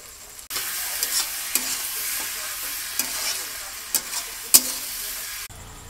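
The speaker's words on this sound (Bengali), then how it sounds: "মাংসটা দিয়ে কষা হচ্ছে ফ্রেন্ডস" Meat cooking in a hot pan with a full mix of spices and a little sugar, a steady close sizzle with occasional sharp scrapes and clinks of stirring, stopping abruptly near the end.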